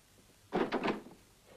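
A door is shut in a western film scene: one brief, loud, rattling thud lasting about half a second against a quiet background.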